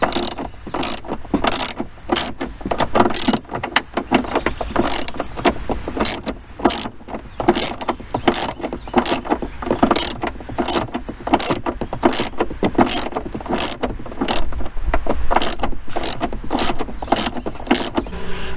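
A hand ratchet works a rear hatch strut bolt loose on a 1993 Chevrolet Camaro Z/28, giving a steady run of sharp, close metallic clicks in quick regular rhythm for the whole stretch, with no talking.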